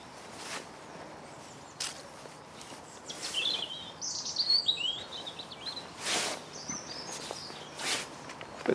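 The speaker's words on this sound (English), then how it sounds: "with the birds singing." Birds sing in a sunny garden among flower beds and snowdrops. Scattered faint chirps and short trills come and go, with soft rustling and footstep-like sounds in between.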